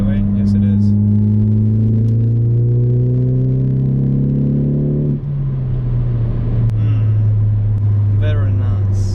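A Ford Focus ST with a Cobb catback exhaust revs up, its raspy engine note climbing steadily, then dropping back to a rumbling idle and rising again, loud and close.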